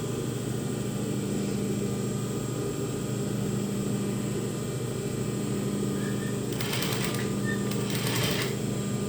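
Sewing machine stitching a saree, a steady close mechanical whirring hum running throughout, with a couple of brief sharper rattling bursts near the end.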